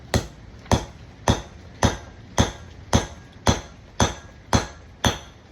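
Hammer striking dually wheel studs in ten evenly spaced, loud metallic blows about half a second apart, each ringing briefly, with no talk.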